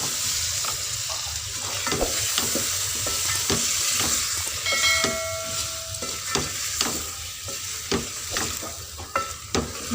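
Peas tipped into potatoes frying in a pan for an aloo matar methi sabzi, with a steady sizzle under repeated spoon scrapes and clacks of stirring, close and fairly loud throughout, no talking.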